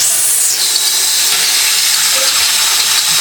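A cleaner sprays into a bathroom drain in a loud, continuous close-up hiss that shifts slightly in pitch early on and then holds steady, with no voices.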